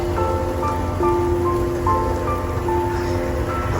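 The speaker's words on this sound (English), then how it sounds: "Here comes more rain." Rain falls steadily around a campsite, an even wash of patter on surfaces with no talk, accompanied by faint sustained tonal hums in the background.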